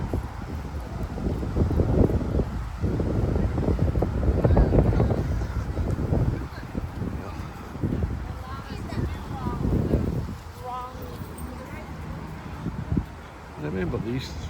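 Wind gusts buffet the microphone outdoors near the Falkirk Wheel in windy, threatening weather, a rough rumbling roar that rises and falls while someone talks over it and crows caw faintly.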